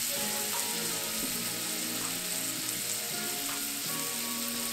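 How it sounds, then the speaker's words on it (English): A steak sears in a hot pan, producing a loud continuous close-up sizzle and crackle with a faint tonal hum underneath and no voices. "Now we want to get a nice sear and caramelize the outside, which is basically browning."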